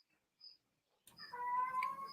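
A cat meows loudly and at length close by, following a short quiet stretch broken by faint chirps.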